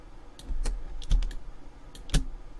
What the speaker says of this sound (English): I'm just using my mouse wheel and my space bar